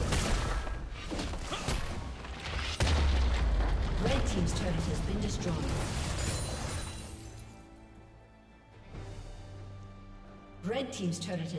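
A League of Legends turret collapses in a crashing, rumbling explosion with shattering debris, loud and sustained before fading, layered over busy game effects and an announcer voice.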